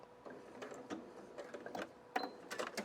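A sewing machine back-stitches a scrap-fabric envelope pouch, making soft, quick, rhythmic ticking and clattering that is close but low in level.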